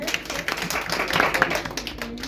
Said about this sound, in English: Let's clap hands for him.